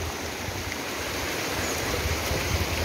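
A flooded river flows past with a strong current, its broad rushing roar loud, close and unbroken.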